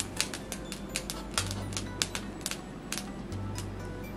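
Sharp shears slide-cutting chunks out of a synthetic brown wig, producing a quick series of crisp snipping and slicing sounds at an uneven rhythm, close and fairly quiet over a low steady hum.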